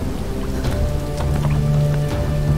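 Steady rain in the Tomb Raider video game falls as a constant hiss with scattered drop patters over a low rumbling ambience, fairly loud and without talk.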